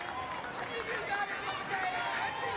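A home crowd at a college softball game stirs with a broad, fairly faint murmur of cheering and chatter, with a commentator talking over it.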